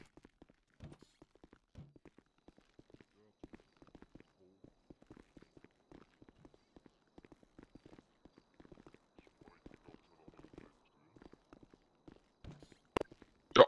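Footsteps of people walking through a police station sound as faint, scattered taps and thuds over a hard floor, with quiet talking and a few louder knocks near the end.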